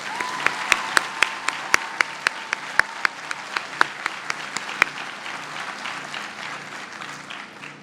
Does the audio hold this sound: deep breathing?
no